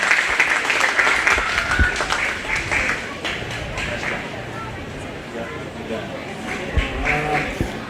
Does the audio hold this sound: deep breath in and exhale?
no